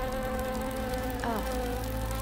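A fly buzzes steadily close to the listener, a constant whining drone that holds at a similar loudness throughout, with no speech.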